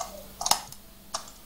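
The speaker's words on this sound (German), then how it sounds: "Man ich hört nur die Tastatur da" A computer keyboard is tapped during a Minecraft gaming session: two or three quick, quiet clicks, sparse and close.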